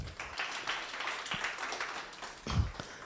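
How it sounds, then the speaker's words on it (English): Audience applause at a foundation launch event, a sustained wash of many hands clapping at moderate volume, with a couple of louder thumps standing out near the start and end. "a bigger round of applause"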